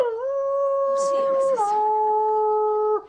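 A person imitates a dog howling at the moon, a long sustained vocal howl that shifts pitch midway and then holds, loud and close.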